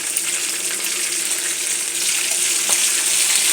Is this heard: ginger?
yes